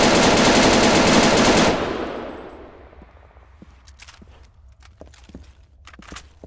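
Steyr AUG rifle in Arma 3 firing a sustained full-auto burst, a dense rapid rattle of shots for nearly two seconds that decays into echoing tail, followed by faint scattered clicks and footsteps.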